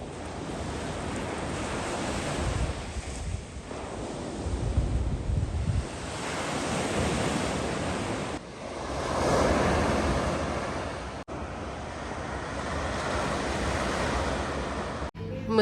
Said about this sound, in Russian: Оставлю вам здесь шум моря,